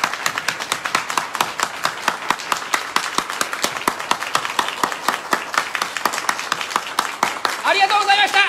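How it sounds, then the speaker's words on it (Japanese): A standing audience at a morning business seminar in Japan breaks into sustained applause, dense, loud and continuous hand clapping that swells slightly near the end. "皆さんご起立の上、江口地区長に拍手喝采で県南の風を味わわせていただけますでしょうか"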